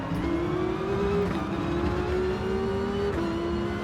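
A car engine hums steadily in a racing video game, holding a droning tone that dips and rises slightly around gear changes and braking, with no voice over it.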